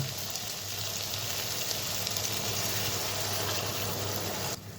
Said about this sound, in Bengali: তো অল্প পরিমাণে জল দিয়ে দিব।